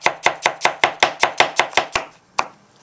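A knife chops through an onion on a cutting board, about ten quick even strokes in a steady rhythm, then a short pause and one last chop, close and clear with no talk.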